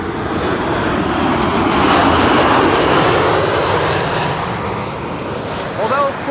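An airplane comes in to land at Schiphol, its engines roaring loudly and steadily for several seconds under wind noise, with a person talking over it.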